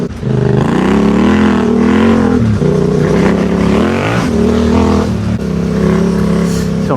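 Off-road motorcycle engine revving loud and close in Spanish terrain, a steady droning roar with rising and falling pitch as the throttle shifts, running throughout without speech.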